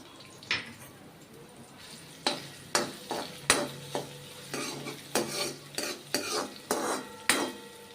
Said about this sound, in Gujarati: તો આપણું તેલ ગરમ થઈ ગયું છે, તો શાકનો વઘાર કરીશું. તો સૌપ્રથમ લીલા મરચાં એડ કરશું.